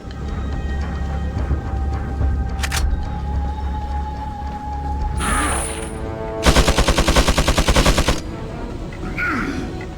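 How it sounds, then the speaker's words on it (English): Automatic gunfire from an enemy machine gunner in Resident Evil 4 (2005), a single shot early, then a short burst and a loud sustained rapid-fire burst over game ambience and music. "the guy with like a machine gun comes after you"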